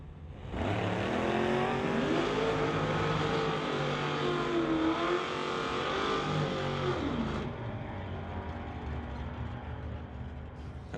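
A Mustang and a GMC pickup launch in a drag race at a strip, a loud sustained engine roar building and holding for several seconds, then easing into a lower, more distant drone.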